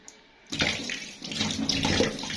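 Tap water gushes into a sink over small fish being washed, starting abruptly after a brief quiet moment and then running as steady, close splashing with no talk.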